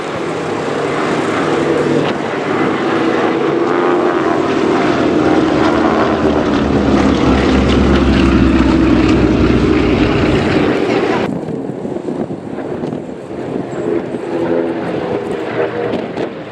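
Lockheed propeller aircraft flying past at an air show, a loud sustained propeller drone that swells and then eases off over about sixteen seconds.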